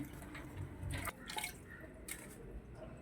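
Soft splashing and dripping water, with hands swishing grain being washed in a container, quiet and close.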